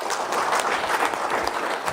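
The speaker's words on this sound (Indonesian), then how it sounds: "Pak, berikan aplaus Bapak" Audience applause rises at a business seminar, a short burst of many hands clapping steadily for about two seconds, fairly close and lively, with no talking over it.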